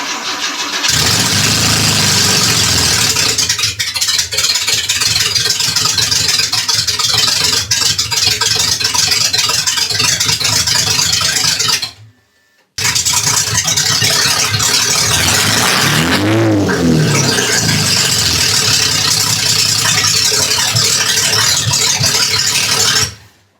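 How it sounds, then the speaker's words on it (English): A 1974 Volvo 164e redblock engine cranks and fires on open headers, running loud and raw close by, then briefly cuts out and restarts, revving rough and rising before settling, with no talk over it. "you got to start it with open headers at least once just to hear what it sounds like"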